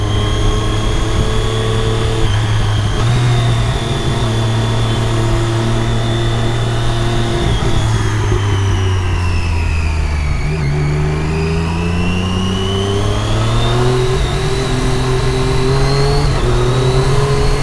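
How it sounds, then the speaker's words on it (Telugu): A Triumph Daytona 675R three-cylinder sport motorcycle engine revs loudly and continuously, its pitch rising and falling in sweeping waves with no voices present. "దీని ఎగ్జాస్ట్ నోట్ కూడా విజిల్స్ వచ్చినట్టు వస్తుంది"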